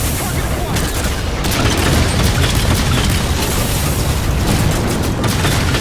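A Halo 4 railgun firing at Phantom dropships, producing a dense, continuous wall of loud booming explosions and gunfire that never lets up, with game voice chatter mixed in underneath.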